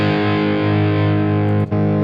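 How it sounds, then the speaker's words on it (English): Electric guitar played with heavy distortion through a Friedman amp preset, a loud sustained chord ringing alone with a brief dip near the end. "if I show it to you with the distortion sound"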